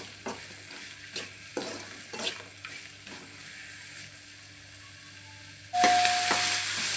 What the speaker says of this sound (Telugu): ఇవన్నీ ఇలా వేగిపోయాయి